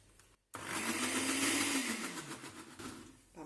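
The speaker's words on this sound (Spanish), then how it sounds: "He licuado por 1 minuto y siento que le falta licuar un poquito más" A blender whirs through quinoa pancake batter, a steady loud motor drone after a brief silence, its pitch sagging slightly as it labours through the mix.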